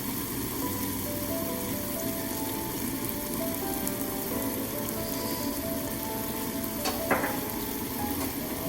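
Onions for couscous sizzle steadily in a pan as honey is added, a continuous close frying hiss with a faint clink near the end.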